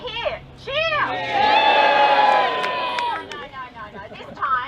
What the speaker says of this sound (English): give us a cheer if you're here. Cheer!